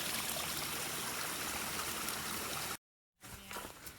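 A stream at a trail water source on a backpacking route rushes and trickles in a steady wash, then cuts out briefly before a closer, more uneven splashing follows; no speech.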